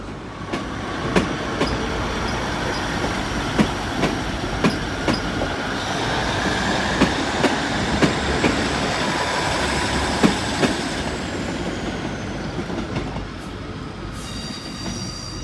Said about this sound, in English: That's the Exeter train going out